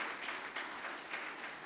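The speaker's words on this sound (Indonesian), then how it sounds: "Beri tepuk tangan buat Tuhan Yesus buat ini" A church congregation at an Ascension Day service applauds for Jesus with steady, continuous clapping that holds at an even, moderate level, with no voices standing out.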